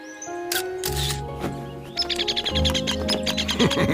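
Baby birds chirp in a cartoon scene, a rapid run of high, bright peeps close by, alongside musical tones and other sound effects.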